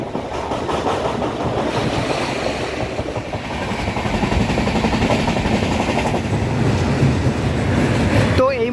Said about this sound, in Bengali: এই মুহূর্তে কিন্তু আমাদের ট্রেন পার করছে কোলাঘাট ব্রিজ